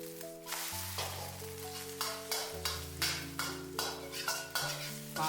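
Eggs fry and are turned with a spatula in a hot pan, a steady sizzle broken by rhythmic scraping strokes about once a second, close and clear with soft background music.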